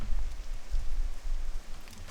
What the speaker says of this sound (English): it is kind of neat to see the difference, of the rain as opposed to just it being standard day-night cycle